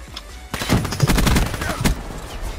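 Rapid bursts of automatic gunfire in a Black Ops 3 team deathmatch, loud and close, with dense overlapping shots and a final sharp report.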